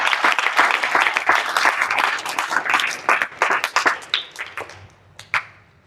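Children and an audience clap at an Environment Day event held by a society, opening with a full round of applause that thins into scattered, uneven claps and a few last isolated slaps as it dies away.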